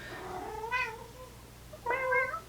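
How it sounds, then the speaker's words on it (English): An orange cat meows twice indoors, a drawn-out wavering call followed by a shorter, louder one about a second later, close to the listener with a low steady hum behind. "if you hear meowing and yowling in my videos, it's him."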